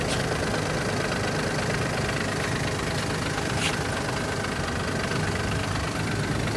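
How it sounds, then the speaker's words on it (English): A Skoda Fabia MK3 idles with the clutch pedal released, giving a loud, steady engine drone with a faint rattle from the gearbox, continuous and close. "When you just idle and your clutch pedal is released, you can hear this transmission, something happening in it."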